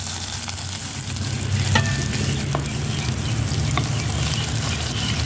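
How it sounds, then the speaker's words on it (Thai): Pork stir-fries in a pan with curry paste pounded from chilies and garlic, sizzling loudly and steadily close up, with occasional light clicks of a spatula. Nobody speaks. "ผัดหมูให้เข้ากับพริกแกงผัดจนหมูสุกครับ"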